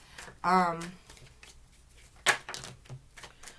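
Tarot cards are shuffled in two quick riffling bursts, the first longer and crisp, the second a short sharp flutter, with a person talking softly between them.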